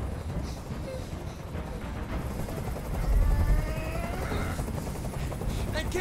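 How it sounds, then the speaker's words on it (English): A helicopter flies overhead in Detroit: Become Human, a steady throbbing rotor drone that swells in the middle under intermittent dialogue. "I can't stand that noise anymore. Tell that helicopter to get out of here."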